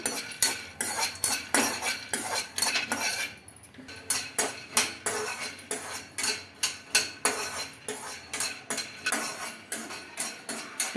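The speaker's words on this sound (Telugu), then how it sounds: "పల్లీలు అయితే వేయించుకుంటున్నాను స్టవ్ ఆన్ చేసుకొని ఒక నాన్ స్టిక్ పాత్ర అయితే పెట్టేసుకున్నాను" Peanuts being dry-roasted and stirred in a non-stick kadai on a stove, with a steady, rhythmic run of scraping and clattering strokes of a utensil against the pan, close and fairly loud, briefly pausing once.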